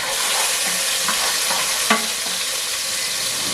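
Vegetables fry in a generous amount of olive oil, a loud, even, hissing sizzle that fills the whole stretch, with faint scrapes of stirring and one small knock partway through.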